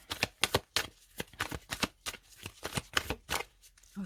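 Tarot cards being shuffled and handled, with rapid papery riffles and snapping flicks coming in quick, uneven bursts close up, loud and without talk.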